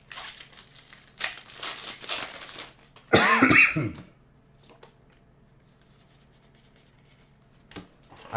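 A person coughing close by, one loud rough fit in the middle, surrounded by softer rustling and crinkling of packaging.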